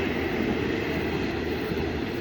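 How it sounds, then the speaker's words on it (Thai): A loud, steady rumble of a diesel railcar train passing close by in rural Thailand, with continuous low engine roar and rail noise. "เสียงรถไฟดังลั่นมาแล้วนะครับ"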